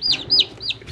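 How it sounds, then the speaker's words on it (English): Three quick, high-pitched peeps from baby chicks, including Splash Marans, close by and chirping one after another. "I picked up 17 baby chickens today."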